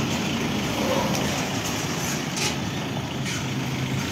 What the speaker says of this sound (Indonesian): kendaraan didominasi dengan truk-truk besar